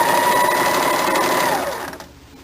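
A sewing machine runs steadily, stitching the side seam of a kurti, its high whirring motor loud and close before slowing and stopping near the end.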